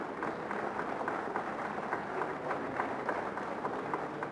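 An audience at a National Assembly farewell ceremony applauds steadily, a dense, continuous patter of many hands heard from a distance at low volume.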